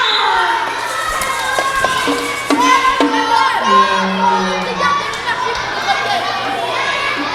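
Arena crowd at a tournament game cheering and shouting while an organ plays bright sustained melodic notes, loud and continuous, with the crowd roar mixing over the organ.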